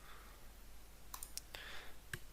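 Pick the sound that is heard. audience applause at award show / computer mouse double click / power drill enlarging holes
computer mouse double click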